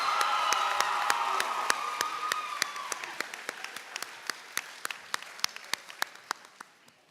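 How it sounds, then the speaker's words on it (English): Applause from an audience at a school's last-day-of-school awards assembly, dense and sustained at first, then thinning over several seconds into sparse, distinct individual claps that fade out near the end. "One more round of applause for the Kerseys"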